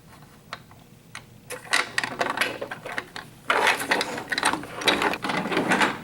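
Metal screw being threaded into the plastic mount of a Thrustmaster TX racing wheel, a close series of rapid ratcheting clicks and scrapes that grow denser and louder toward the end.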